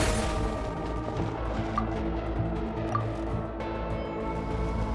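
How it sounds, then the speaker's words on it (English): Water jet ability splashing in Genshin Impact, a steady dense gushing spray that holds fairly loud throughout with a few brief splats and plinks on top, no voices. "Water jet!"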